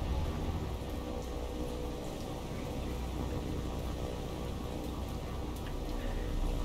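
Steady rainfall in the naval combat game War On The Sea, a dense even hiss of falling rain with no letup, heard alone at moderate volume.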